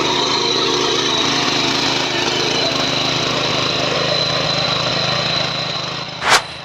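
An engine-powered tiller ploughs farm soil, running on one litre of fuel: a steady, continuous engine drone with rough churning texture, loud and close, holding level throughout, with a brief sharp noise near the end.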